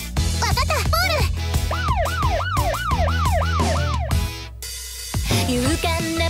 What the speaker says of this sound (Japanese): パトカーのサイレン 赤青赤青 ううう出動しよう。